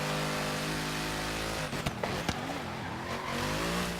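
A Mercedes AMG GT-R in Forza Horizon 3 holds a steady engine drone, then the tone drops sharply under hard, late braking, with brief thumps and tire noise before the engine rises again.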